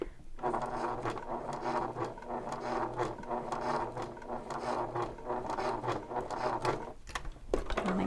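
A sewing machine stitches a messenger bag near a swivel hook, producing a continuous close whirring rattle of rapid needle strokes with a short pause near the end, no voices.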